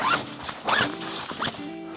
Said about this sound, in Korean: 이렇게 넓게 열리는 지퍼 좋습니다